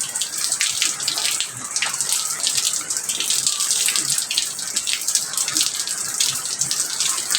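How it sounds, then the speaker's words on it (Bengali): Rain pours onto a tin roof in a dense, steady patter of many close hard drops, loud and continuous throughout with no talk. "ওই যে তিনে চাল দিয়ে বৃষ্টি পড়তেছে"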